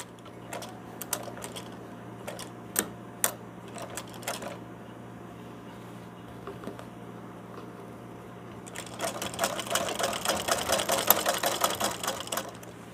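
A sewing machine stitches a frill on a baby night dress: scattered short clicks and taps at first, then a steady, dense mechanical whirr of continuous stitching near the end.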